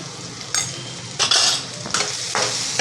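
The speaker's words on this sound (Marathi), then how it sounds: "त्याला परतायचं आहे आता ह्याला छान" Drumstick curry with turmeric and ground spices sizzles in a hot pan as a spoon stirs it, several bursts of scraping and crackling frying close up, no talking.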